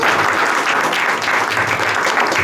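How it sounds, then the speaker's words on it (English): Sustained, dense applause from an audience at a religious seminar at ISKCON Scarborough, steady and fairly loud throughout with no talking over it. "Again, warm round of applause for Mahabhagavat Prabhu."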